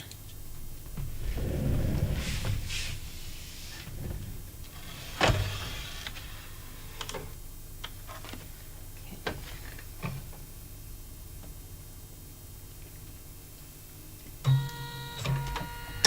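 An embroidery machine receiving a design for single-colour trivets and tea towels gives scattered mechanical clicks and ticks, then a short electronic beep near the end, with no talking.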